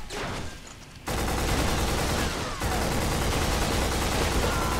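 Sustained gunfire from the PS2 shooter Black, a dense continuous barrage of rapid shots running nearly throughout, with a short quieter gap at the start and a brief dip midway.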